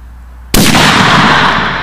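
A single loud gunshot fired at a target, a sharp close blast followed by a long rumbling echo that slowly decays, with no talking.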